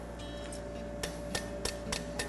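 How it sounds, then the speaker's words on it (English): Light hammer taps on the rocker toe of a patten bar horseshoe against an anvil, about five sharp, evenly spaced strikes over a steady background hum. "hammer lightly on my rocker toe there"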